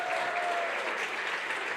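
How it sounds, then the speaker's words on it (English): Steady applause from a ceremony audience in a hall, a dense, even wash of clapping that continues without pause for the whole short stretch. "We also need a big round of applause for the educational media team."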